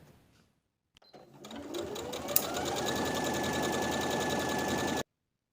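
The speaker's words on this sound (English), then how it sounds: "sew along the folded edge all the way around" A sewing machine stitches along the folded hem edge of a gathered linen blouse, starting after a brief pause and then running steadily and loudly at a fast, even pace for several seconds before stopping abruptly.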